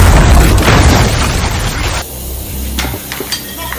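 Smoke bombs and gunfire erupt in a film action scene inside a building, a loud booming blast with a rushing hiss that cuts off abruptly, followed by scattered sharp pops.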